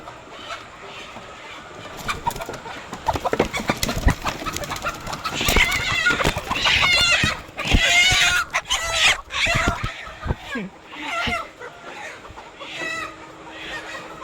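A crowd of chickens unloaded from trucks clucks and squawks in loud, busy bursts close by, with wing flapping, scraping and knocks in between and a quieter stretch near the end.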